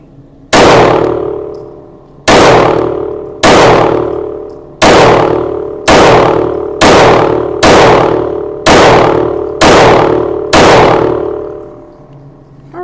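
Nine loud shots from a Palmetto State Armory Micro Dagger pistol loaded with 124 grain rounds, each a sharp crack with a ringing decay, fired at a steady pace of roughly one per second.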